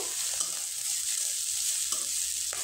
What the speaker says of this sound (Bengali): এবার খুব ভালোভাবে নেড়ে চেড়ে নিব।